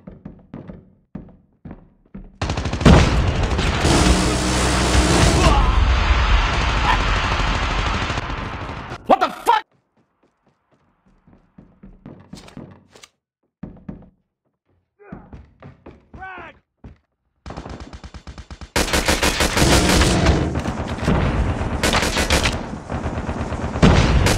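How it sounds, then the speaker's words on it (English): Call of Duty Mobile gameplay with a sentry gun: loud bursts of rapid automatic gunfire and heavy thuds fill two long stretches, separated by quieter scattered shots and clicks, with game voice callouts in between. "sentry gun spotted"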